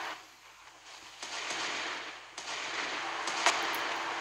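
Secondary guns on the battleship Montana fire in the naval combat game Naval Creed, giving repeated booming shots one after another over a rumbling battle background.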